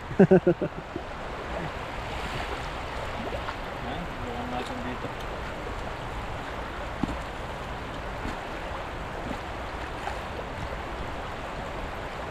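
Water flows steadily in quiet, secluded surroundings, a soft continuous rushing hiss that runs throughout, with a few sharp knocks at the very start and a person talking over it.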